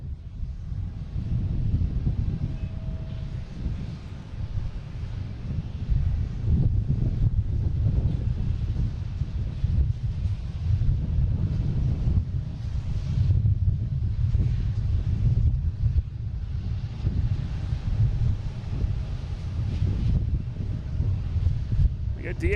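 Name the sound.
steady wind at Boston Logan airport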